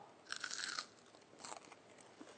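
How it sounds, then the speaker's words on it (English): Close, crisp crunch of a bite into a fried soya-coated paneer finger, one sharp burst followed by softer chewing crunches. "I don't know whether you can hear the crunch, but just awesome crunch"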